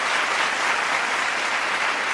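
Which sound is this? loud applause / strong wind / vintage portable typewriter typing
loud applause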